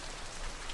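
Raindrops patter steadily outside an open window, a brief, quiet, even wash of rain with no voices.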